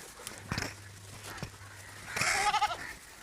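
A young female goat bleats several times, fairly soft and a little distant, with a longer wavering call near the end.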